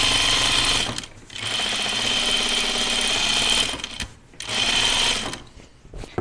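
A sewing machine stitches a dress seam up from the hem in three loud, fast bursts of rattling whir, separated by short pauses and a faint click.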